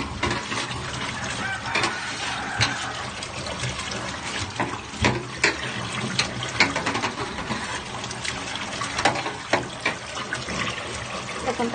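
Water pours from a tap as a freshly scrubbed, cleaned item is rinsed under it, a continuous close splashing flow with irregular spatters and drips throughout.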